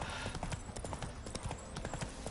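Horse hooves galloping in The Witcher 3 on PS5, a fast, even clip-clop rhythm, close and continuous throughout.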